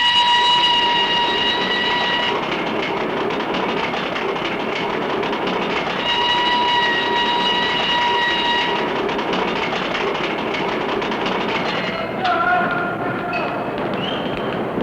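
A passenger train rumbles steadily along with a continuous roar and rhythmic clatter, with high whining tones rising and fading above the noise.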